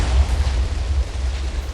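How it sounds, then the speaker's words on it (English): A TNT explosion in the Minecraft video game, heard as a loud, sustained low boom that rumbles steadily for the whole moment with no voice over it. "That's a pretty big explosion."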